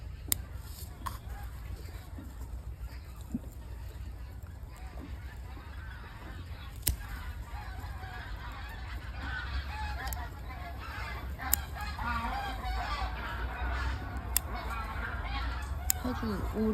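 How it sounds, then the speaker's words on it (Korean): Duck-like honking calls repeat over a steady low background hum, loud and close, with a few sharper cries standing out. "아주 오리 소리네."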